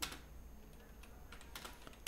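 Quick, quiet typing on a computer keyboard while working in AutoCAD, with a handful of crisp key presses, including Enter, spread across two seconds near the microphone.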